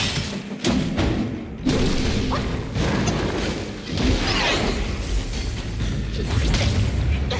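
A giant boss in the video game Black Myth: Wukong slams his hand down, heavy booming thuds and crashing impacts sounding loud and close within a dense wash of battle noise, with several strikes across the stretch and no clear talk.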